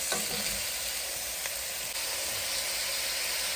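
Vegetables in a hot pan with soy sauce and fish sauce just added, giving a steady, close, hissing sizzle throughout with a few faint clicks.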